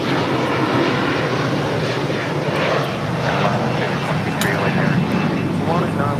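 An Airbus A350-1000 airliner taxis at LAX, its engines giving a loud, steady roar and whine that fills the scene continuously, with no pauses.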